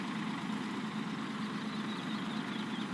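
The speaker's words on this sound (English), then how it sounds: "stop the engine in this truck" A truck engine idles in the video game Snowrunner, giving a constant, even mechanical hum with a low rumble and no change in pace across the stretch.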